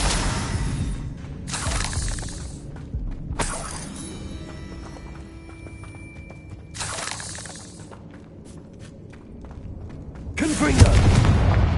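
Bombarda blasting spells detonate in the Hogwarts Legacy video game, several loud crashing bursts with shattering debris spaced a few seconds apart, the last one heaviest, over a low rumbling game backdrop.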